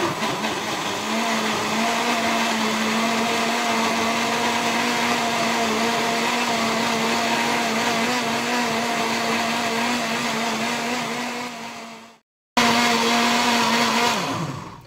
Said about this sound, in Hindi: जूसर ब्लेंडर को चलाएं।